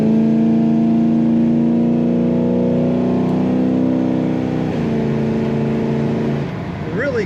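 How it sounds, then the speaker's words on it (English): A 1972 Chevrolet Chevelle Malibu Sport Coupe with an automatic transmission accelerates, its engine note climbing steadily and then dropping with a quick, firm shift before pulling again. The car sounds close and loud, and the engine runs throughout. "Really quick, nice firm shift from that automatic transmission. Make for good acceleration."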